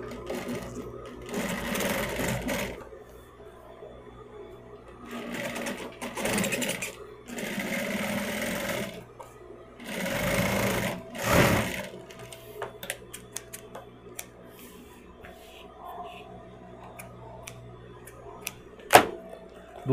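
A sewing machine stitches the seam of a handmade bag in bursts of rapid mechanical whirring separated by pauses, close and clear, while someone speaks quietly between runs.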